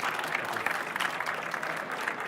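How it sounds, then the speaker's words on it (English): A conference audience at a tech event claps after a presentation: a brief, steady burst of many hands at an even, moderate level. "First of all, a round of applause."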